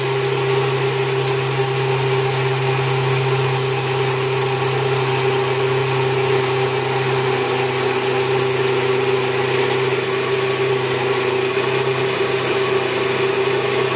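A mixer grinder runs continuously, grinding wheat grain into flour with a steady, loud motor whine and whirring hum that holds constant throughout, with no talking.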